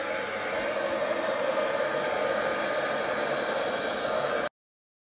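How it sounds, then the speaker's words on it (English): A hair dryer blows steadily at close range across wet acrylic pour paint with a constant broadband whoosh, then cuts off abruptly near the end. "I'm going to blow that out with the hairdryer."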